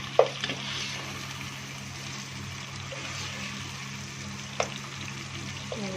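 Chicken pieces sizzle and fry in a pan for a chicken bhindi masala, with a steady crackling hiss, a low background hum, and a few brief clicks of stirring.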